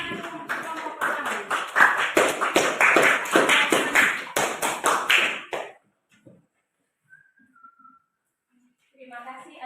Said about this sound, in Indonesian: Kita berikan tepuk tangan untuk kelompok pertama.